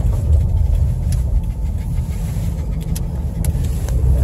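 A car engine and road rumble run steadily and fairly loud while the vehicle drives and turns around on a country road near Hartland, New Brunswick, with no voices over it.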